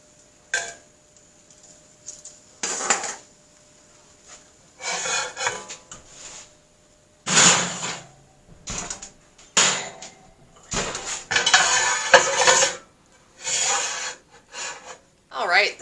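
Dehydrated hummus and green peppers being flipped on oven trays, a series of short dry scraping and rasping bursts with quiet gaps between, close and fairly soft.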